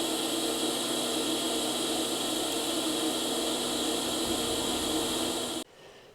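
An R Tech TIG 160FPP welder pulse welding a razor blade, giving a steady, loud, close hiss and hum that runs unbroken for several seconds and then cuts off abruptly, leaving faint background noise.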